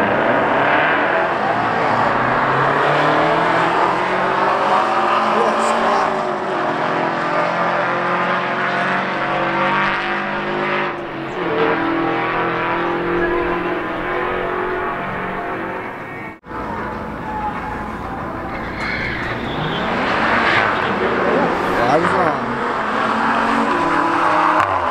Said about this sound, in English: Land Rover versus a FRS or a BRZ or something like that.